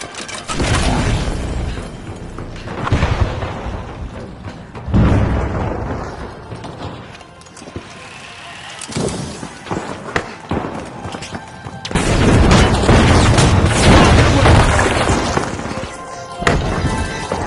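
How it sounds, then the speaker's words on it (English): Flashbang grenades and other blasts in the shooter game The Finals, with several loud, heavy booms and bursts breaking over a continuous rumble of chaotic combat. "Using a flashbang."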